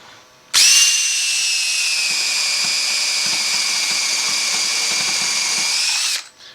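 A Makita power drill with a 5/8 bit bores into a cherry wood guitar body, a loud steady whine that starts abruptly, holds evenly for about five seconds, then winds down, with no talk.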